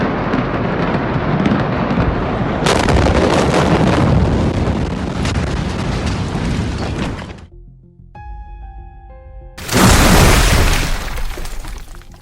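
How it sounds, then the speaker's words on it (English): A giant tree crashing down, a loud roaring rumble of breaking and tearing that runs for several seconds, drops to a brief musical sting, then returns as a heavy crash. "A giant tree crashes down"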